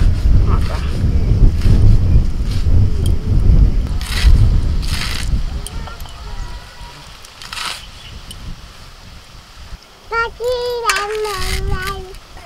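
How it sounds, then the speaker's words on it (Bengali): Strong wind in an open field buffets the microphone in loud, rumbling gusts, with a voice and some chatter heard faintly under the blustery noise. "মাঠে তো ওই জন্যই তো এত হাওয়া দিচ্ছে।"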